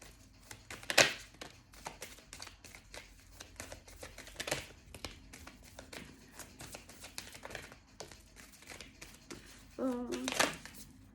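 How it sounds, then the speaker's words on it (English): A deck of cards is shuffled several times in quick riffling bursts, with soft crisp flutters close by and a fuller shuffle near the end. "We'll get 5 more shuffles."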